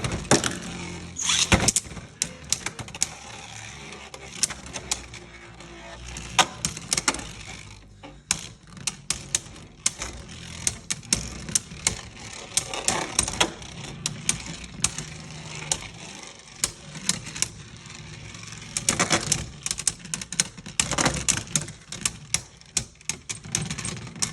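Beyblades including Xcalius spin and clash inside a plastic stadium, giving a continuous close rattle of scraping and rapid clicking collisions with frequent sharper impacts and no talk.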